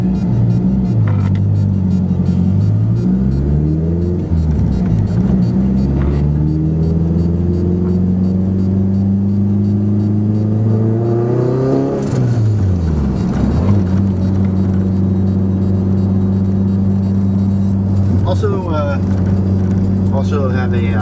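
A 2007 Honda Civic Si sedan with a turbo drives along, its engine droning steadily from inside the cabin with the pitch rising and falling through gear changes, while someone talks over it almost the whole way.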